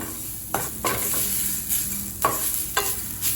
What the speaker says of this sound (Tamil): தேங்காயை லேசாக வறுத்திங்கன்னா போதும்.